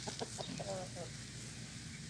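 Fighting cocks clucking in a short run of soft quick clucks near at hand, then quieter background noise with faint farmyard ambience.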